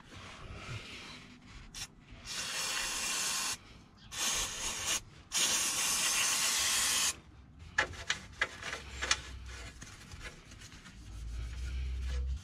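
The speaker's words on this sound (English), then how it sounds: "give it a blast with some brake cleaner as well, just so it doesn't start attracting dirt" Brake cleaner aerosol hisses in several loud, close bursts under a BMW E60 M5 during an SMG hydraulic fluid change, followed by scattered clicks and handling noises.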